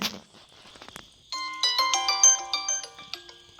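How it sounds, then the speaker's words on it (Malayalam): A mobile phone rings at home with a bright, chiming melodic ringtone that starts abruptly and repeats in quick bell-like notes. It is loud and close, following a brief stretch of faint background noise. "നിങ്ങൾ ഫോൺ ഇതാ വെല്ലടിക്കണേ"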